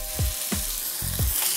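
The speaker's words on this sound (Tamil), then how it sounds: "நம்மளோட வெங்காயம் பார்த்தீங்கன்னா எண்ணெயில் சூப்பராக வதங்கியிருக்கு." Chopped onions and tomatoes fry in oil in a pan for a dum fish dish, giving a steady sizzle with a few low stirring scrapes, close and continuous, with no talk.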